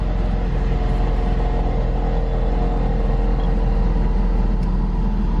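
Ford Focus RS engine running after an ECU modification, a loud, steady, low idling rumble with rapid pulsing throughout, no voices.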